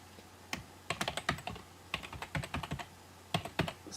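Computer keyboard keys typed in quick bursts of clicks, pausing between short runs as a username and password are entered; close and fairly quiet, with no talking.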